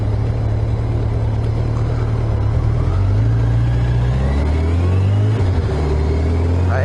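Motorcycle riding on a road on a December day, a steady loud engine drone with a gear change partway through and constant wind rush.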